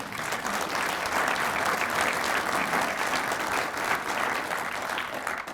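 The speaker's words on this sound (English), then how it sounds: "Please applaud." Sustained audience applause for the Reynoldsburg Police Department at a State of the City address, a full, steady crowd clapping that carries on for over five seconds without talk.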